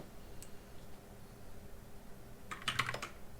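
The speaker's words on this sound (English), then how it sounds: "So type anything" A few quick keystrokes on a computer keyboard, a faint single tap early then a short cluster of clicks near the end, quiet and close.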